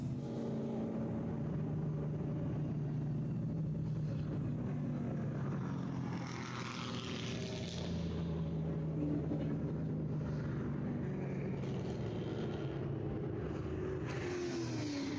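Race cars in an SARRC/MARRS Challenge field starting a lap behind the safety car at VIR, a continuous engine drone with rising and falling revs as cars pass, fairly distant and steady throughout.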